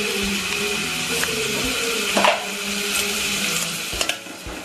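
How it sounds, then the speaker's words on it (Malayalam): Crushed garlic, shallots and curry leaves fry in coconut oil for a prawn coconut fry, giving a steady close sizzle with the scrape of stirring and a few clinks throughout. "വെളുത്തുള്ളി, ചുവന്നുള്ളി, വേപ്പില ഇത്രയും ചതച്ചത് ഇതിലേക്ക് വെളിച്ചെണ്ണ ഒഴിച്ച് ഇനി അത് മൂക്കണം."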